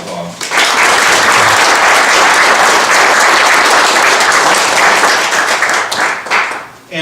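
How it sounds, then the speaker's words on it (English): A loud, sustained round of applause from a crowd at a yacht club change of watch ceremony, dense clapping that swells quickly, holds steady for several seconds, then tapers off. "So I'd like a nice round of applause for Bob."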